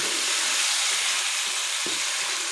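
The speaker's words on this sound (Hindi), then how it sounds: "चिकन को ऑयल में हमने फ्राई कर लेना है, हल्का ब्राउन होने तक।" Chicken pieces frying in oil in a pan for malai handi, a steady close hiss and sizzle with occasional soft crackles and stirring knocks.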